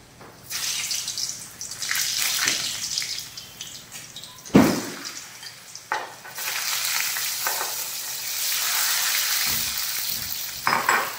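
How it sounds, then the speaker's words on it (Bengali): Pieces of elephant foot yam and potato go into hot oil and fry, with a loud bursting sizzle as they drop in, then a continuous crackling hiss with occasional stirring clunks, close up. "এবারে আস্তে আস্তে ওল আর আলুটা আমি দিয়ে দেব।"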